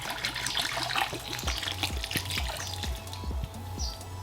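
Water pours and trickles into a small dish inside a scorpion enclosure, with a steady close liquid splash and dribble and faint clicking taps throughout.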